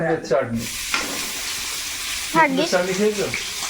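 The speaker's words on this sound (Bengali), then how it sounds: "আমি তেলের মধ্যে একটু গোটা জিরে একটু আদা আর তেজপাতা দিলাম" Whole cumin, ginger and bay leaf fry in oil with a soft steady sizzle, while voices talk nearby over it.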